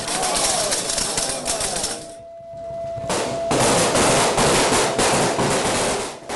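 Rifle gunfire from trainees on an Air Force basic training firing range, a loud, dense, continuous volley of overlapping shots crackling close by, with a brief lull before firing resumes.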